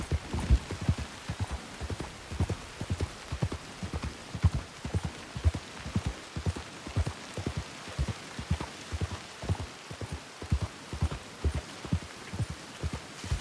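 Rain falling in the open world of the video game Red Dead Redemption 2, a steady wash of drops under a regular clopping of horse hooves that runs the whole time, with no talking.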